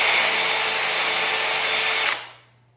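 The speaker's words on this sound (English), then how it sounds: "I'd rather just drill it out, to be honest" A power drill whines loudly and steadily while drilling out PVC Royal base moulding around a shower, then spins down and stops near the end, with no voices.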